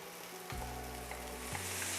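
Rice toasts in a skillet with sausage, a close, steady sizzle and crackle with a couple of low humming shifts as it is stirred.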